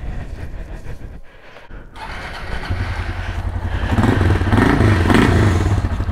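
A 2023 Start motorcycle engine revs up through a Polimet exhaust with its filter removed, rising into a loud, sustained throaty roar with low rumbling pulses and some mechanical clatter.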